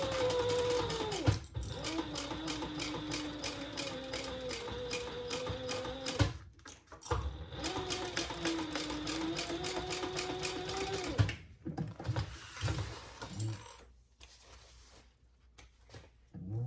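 A sewing machine runs in long steady stitching stretches while sewing a bowler bag seam, its fast mechanical whir pausing briefly between runs before a few shorter, quieter bursts.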